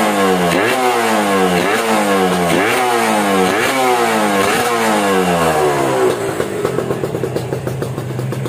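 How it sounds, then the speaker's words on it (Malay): A KRZ motorcycle that sat unused for three years and has a carburetor overflow problem revs hard just after starting. It gives loud, repeated rising surges close by, then settles into a rough, uneven idle. "Okay guys, berjaya hidupkan motor ni."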